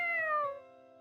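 A cat meows in the visual novel game Fatal Twelve: one drawn-out, tonal meow that slides downward in pitch and fades, heard alone and clear.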